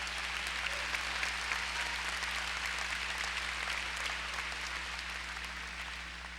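Sustained applause from a church congregation during a sermon, an even wash of many hands clapping that holds steady for several seconds and then eases slightly, heard at a distance over a low electrical hum with no talking.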